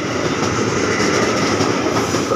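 A 12-car KRL Commuter Line train rolls through busy Manggarai station in Indonesia, a loud continuous rumble of wheels and carriages with faint rhythmic clatter and no voices.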